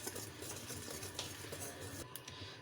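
Cake batter for a microwave vanilla cake is stirred in a bowl, giving soft, quiet scraping and light clinks of a utensil with no talk.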